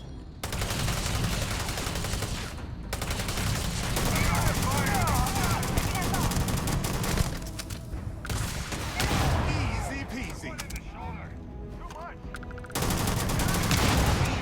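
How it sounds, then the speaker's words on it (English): Sustained rapid gunfire and weapon fire from a space battle in the video game Starfield, dense and loud across the whole stretch with brief gaps, missiles being launched amid the barrage, with voices talking over it. "Keep shooting those missiles."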